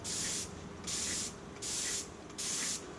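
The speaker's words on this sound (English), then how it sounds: "you don't want to come right in and spray the part." A spray gun spraying Duracoat coating onto a part hisses in four even bursts, each about half a second long, separated by short pauses, close and fairly quiet.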